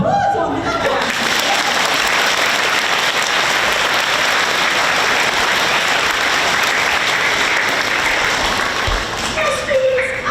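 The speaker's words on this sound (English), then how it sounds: "here's some applause on that one" Sustained applause from elementary school students at Pearl Upper Elementary, a dense, loud wash of clapping filling the room from start to finish, with brief voices at the edges.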